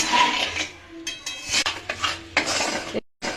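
Sugar and water stirred in a metal pan for caramel, a spoon scraping and clinking against the pan in short repeated strokes, close and fairly loud, with a brief gap near the end.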